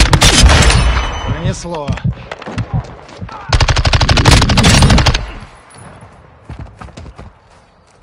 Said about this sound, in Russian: Под обстрелом.